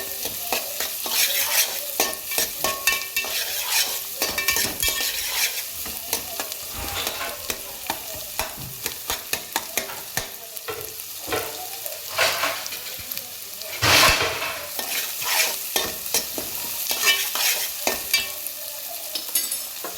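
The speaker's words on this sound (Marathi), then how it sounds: "कांदा चांगला बटर आणि तेलामध्ये परतून घ्यायचा लालसर होईपर्यंत." Chopped onions sautéing in butter and oil for pav bhaji, a loud, dense sizzle close up with frequent clattering stirs and scrapes of a spatula throughout.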